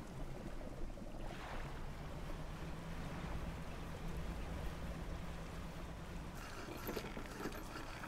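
Boat engine in the fishing game Dredge, a steady low rumble blended with wash of waves and wind, continuous and even throughout with no talk.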